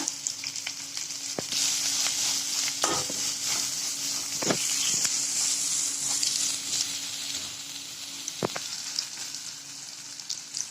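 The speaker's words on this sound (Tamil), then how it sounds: "2 நறுக்குன பெரிய வெங்காயத்தை சேர்த்துக்கோங்க." Chopped large onions sizzle and crackle steadily in a hot pan with oil, a continuous frying hiss with occasional sharp pops and stirring scrapes.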